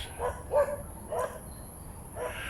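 Distant dogs bark a few times in short bursts, faint over a low background rumble.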